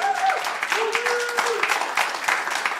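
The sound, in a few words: church congregation applause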